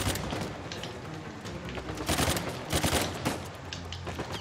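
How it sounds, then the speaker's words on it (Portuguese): Rapid bursts of automatic gunfire from a weapon in the video game Uncharted 4, a dense, loud rattle of overlapping shots that swells into heavier volleys partway through, with no voices. "Segurar aqui e pegar essa arma que ela atira mais rápido."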